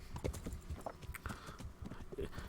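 A horse's hooves clip-clop at a quick, steady gallop in the medieval video game Kingdom Come: Deliverance, a dense rhythmic drumming mixed with wind and outdoor ambience.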